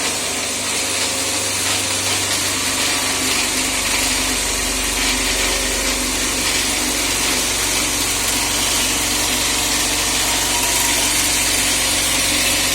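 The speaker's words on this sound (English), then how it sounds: "I am going to load the DC motor by using this" A DC motor in an electrical machines lab runs under load from a load setup, producing a steady, loud whine and hum with a low rumble that deepens partway through.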